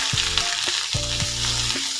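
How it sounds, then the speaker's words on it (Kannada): Onion sizzles in hot oil for a Karnataka-style bitter gourd gojju, with a loud, steady frying hiss and a few close scraping stirs from a utensil against the pan. "ಈಗ ನಾನು ಈರುಳ್ಳಿಯನ್ನು ಸೇರಿಸ್ತಾ ಇದ್ದೀನಿ."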